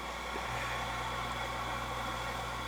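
A tiny governor-controlled steam engine runs close by with a steady mechanical whir and a low hum that stays even throughout.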